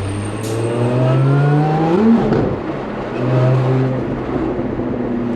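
A Lotus Emira prototype's engine revs up and shifts through gears with a rising whine, close and loud, including a brief sharp exhaust crackle mid-acceleration.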